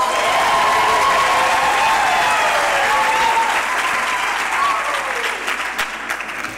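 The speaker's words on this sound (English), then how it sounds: "this choir deserves yet another round of applause" Audience applause for a university choir at an autumn graduation ceremony, a dense steady wash of many hands clapping that carries on loud throughout and eases slightly near the end.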